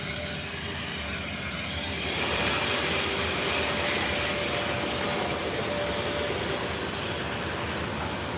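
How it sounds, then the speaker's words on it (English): Train passing in Russia, a broad rushing rumble that swells after the first couple of seconds and holds steady, with a faint tonal whine running through it. "There's another train."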